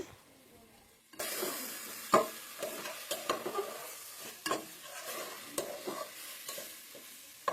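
Browned onion frying in oil with cinnamon, cardamom, bay leaf and ginger-garlic paste: after a quiet second, a close sizzle rises and carries on under repeated scraping and knocking of a spoon against the pot.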